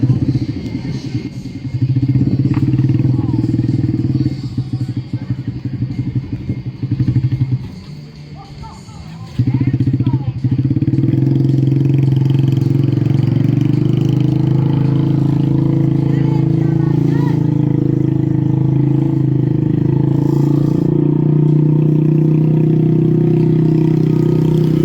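A pit bike engine drones steadily while the rider crosses an obstacle course, dipping briefly mid-run before picking back up to a sustained, loud buzz close by.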